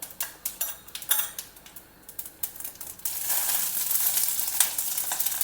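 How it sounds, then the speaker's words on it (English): Mustard seeds and channa dal hit hot oil in a pan, first with scattered sharp crackles and pops, then a dense, steady sizzle with occasional louder spits, close up with no talk. "Heat a oil in a pan. Add some mustard seeds"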